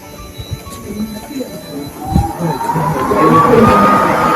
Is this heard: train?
yes